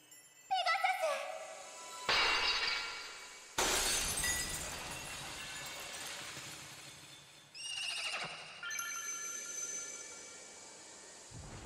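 Shattering burst in a Sailor Moon Eternal VR game as a Pegasus breaks a purple prison, with a bright glassy crash and tinkling, a horse whinny, and swelling magical effects over several seconds; a voice speaks briefly.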